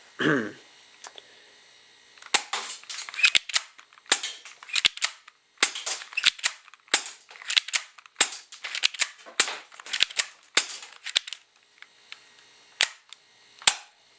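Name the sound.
spring airsoft Glock 17 pistol being fired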